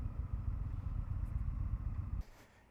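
An Indian FTR 1200 motorcycle on a 2022 test ride makes a steady, low engine rumble for about two seconds, then drops away sharply.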